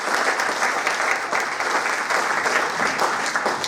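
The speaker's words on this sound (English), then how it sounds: "Let's give them a round of applause." A live variety-show audience breaks into applause, a crisp, lively burst of clapping from a small crowd nearby, steady and fairly loud from start to finish without voices.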